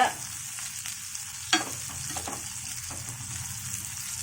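Sliced raw banana (valaka) coated in masala fries in a pan with a steady close sizzle, broken by a few sharp stirring scrapes and clatters.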